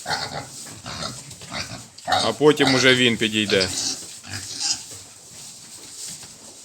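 Pigs, including a boar, grunt and squeal close by, one long loud squeal in the middle, while someone talks over the animals.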